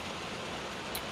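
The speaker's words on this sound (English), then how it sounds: "Excuse the noise from our beautiful rain shine out there." Steady rain falling outside a car workshop, a continuous broadband hiss with no breaks, fairly faint and even, heard alone without voices.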